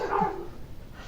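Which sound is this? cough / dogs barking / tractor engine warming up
dogs barking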